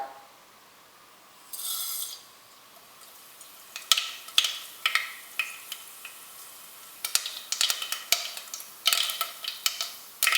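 Mustard seeds sputter and pop in hot coconut oil in a kadai on a stove, a quiet sizzle broken by a burst of scattered sharp crackles that grow denser toward the end.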